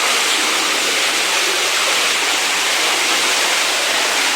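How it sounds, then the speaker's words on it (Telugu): Water flowing out of rock inside the Belum caves, a loud, continuous rushing hiss of falling and running water filling the space evenly, close by, with no voices over it. "ఇది కొండలో నుంచి నీళ్ళు వస్తుంటాయి."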